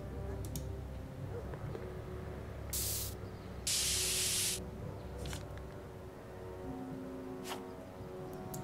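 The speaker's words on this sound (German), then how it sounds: "Sprühfarbe" A spray paint can in the Back to the Future video game gives two bright hissing bursts, a short one and then a longer one, between faint clicks and quiet background sound.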